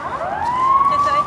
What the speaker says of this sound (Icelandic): Sá slökkviliðsbíl.